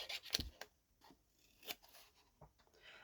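Scissors cutting through fabric up close, a few quiet, crisp snips spread out over a few seconds against a soft background.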